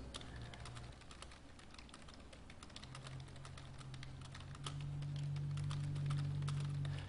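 Rapid clacking keystrokes on a computer keyboard during a League of Legends collegiate championship broadcast, steady and close, with a low hum that rises partway through.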